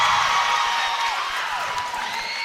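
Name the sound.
Tipton crowd cheering after a made free throw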